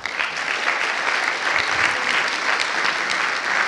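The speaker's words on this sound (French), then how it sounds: "vous pouvez l'applaudir, je pense" An audience at a lecture on models, information and statistical physics applauds steadily for several seconds, a dense even clatter of many hands with no voices over it.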